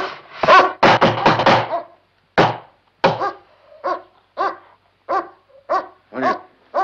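A dog barks loudly and close, starting with a rapid cluster of deep barks, then settling into a steady series of evenly spaced single barks.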